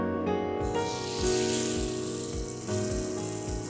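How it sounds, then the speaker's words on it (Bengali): Marinated tandoori prawns frying in a little hot oil give a steady sizzling hiss, close and moderately quiet, with a low hum from the kitchen underneath. "আমি এখানে অয়েল দিয়েছি, এখন এটা আমি ফ্রাই করে নিব।"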